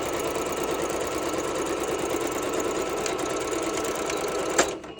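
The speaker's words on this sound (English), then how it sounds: "And again, I will do a straight stitch down." Sewing machine running a straight stitch, a steady close whirring chatter of the needle mechanism that holds even for several seconds before a small knock and a slowdown at the end.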